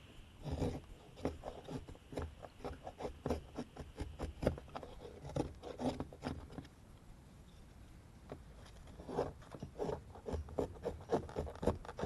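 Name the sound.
shaving wood off a fire board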